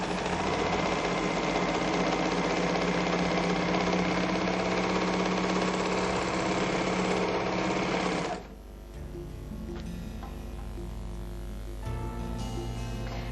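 A MerrylocK 3000CL overlock machine stitches fabric in a steady, loud, fast mechanical whir for about eight seconds, then stops, leaving a faint hum behind.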